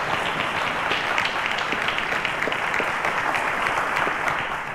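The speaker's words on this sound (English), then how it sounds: "A round of applause, guys." A studio audience applauds quiz contestants on a televised school maths quiz show, a steady, dense wash of many hands clapping that holds evenly throughout without a break.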